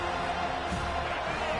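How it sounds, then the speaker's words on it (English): A home crowd roars in the Madden football video game as the defense tries to get off the field on third down, a steady, dense wash of cheering that holds at an even level throughout. "Here comes this home crowd as the defense tries to get off the field on 3rd down"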